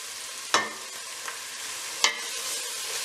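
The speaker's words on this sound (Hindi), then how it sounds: "अब हम इसे अच्छे तरीके से भूनेंगे, धीमी आंच करके मैं मैदे को भी भूनूंगी" Flour being stirred and roasted in a pan over a medium-low flame for cream of mushroom soup, giving a soft steady sizzle broken by two sharp scraping clinks of the spoon, with no talking.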